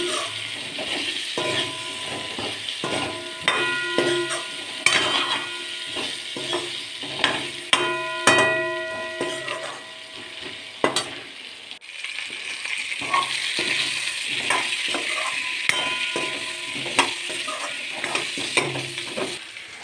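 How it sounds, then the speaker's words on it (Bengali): Carrots seasoned with turmeric fry in a pan while a utensil stirs and scrapes them. Steady sizzling runs throughout under repeated metallic clinks and scrapes at close range, and no one speaks. "এখন আমি বাড়িয়ে দিলাম, এবং তাড়াতাড়ি করে আমি আমার গাজরটাকে বেশ একটু ভালো করে ভাজা ভাজা করে নিচ্ছি।"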